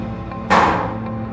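A cherry bomb firecracker goes off inside a cement mixer drum at a blasting range, one sudden muffled bang followed by a brief hollow ringing decay over a low steady background hum.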